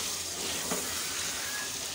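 Onion, chicken, garlic and ginger frying together in a pan, a steady close sizzle with soft crackle and no voices.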